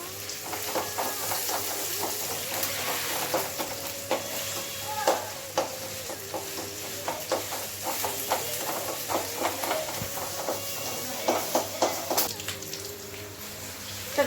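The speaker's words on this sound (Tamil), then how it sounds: "இப்போ வெங்காயம் நல்லா வதங்கிடுச்சு." Onions sautéing in a pan for green peas kurma, a steady close sizzle broken by frequent scrapes and clinks of the stirring spoon, with a faint hum underneath and no speech.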